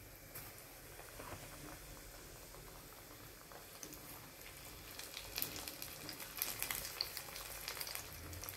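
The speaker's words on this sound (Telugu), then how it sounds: "ఇలా తిప్పుకుంటూ ఫ్రై చేసుకోవాలి." Chicken pieces frying in oil in a pan, a faint continuous bubbling sizzle that grows busier and crackles more toward the end, with no talk.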